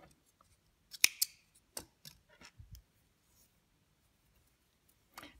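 Scissors snip through crochet yarn at the end of a crocheted piece: a couple of quick, crisp, close cuts followed by a softer snip and light handling, then near silence before a final small click.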